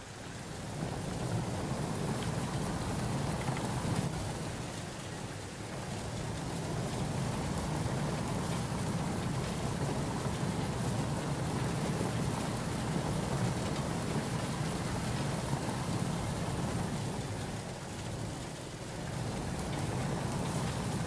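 Heavy rain in the survival game DayZ, a dense, continuous roar of downpour with a deep low rumble beneath it, steady throughout with only slight swells and dips, and no voices.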